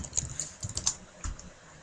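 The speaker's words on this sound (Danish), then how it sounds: "skriver jeres kode herinde" Short bursts of key clicks from a computer keyboard as a code is typed, uneven in rhythm with brief pauses, close but quiet, with no voice.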